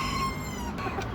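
A bantam chicken gives a single brief, faint cluck.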